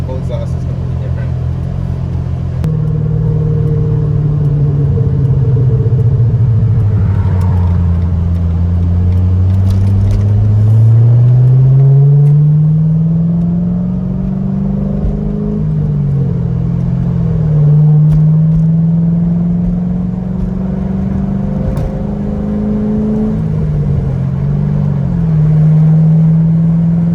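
A C6 Corvette engine with new headers, an X-pipe and full exhaust, burbling at idle and then revving up and down in several rising and falling sweeps, with people talking over the rumble.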